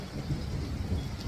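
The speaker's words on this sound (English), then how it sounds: "Can you hear the thunder?" Thunder rolling during rain in Arizona, a low steady rumble with a rain-like wash over it, distant and fairly faint, with no talk.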